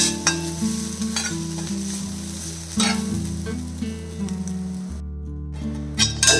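Grated coconut roasting in an iron pan for a squid dish, stirred with a spoon: a loud, continuous sizzle with repeated scraping strokes against the metal and a low background hum, close by with no voices.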